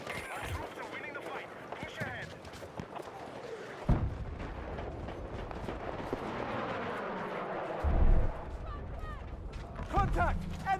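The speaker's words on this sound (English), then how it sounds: "Contact! Enemy machine gun!" Enemy machine gun fire in the shooter game Battlefield 6 comes as scattered thumping bursts and blasts over a continuous battlefield rumble. Mechanical clatter and a voice in game chatter mix with it, with heavier impacts near four and eight seconds.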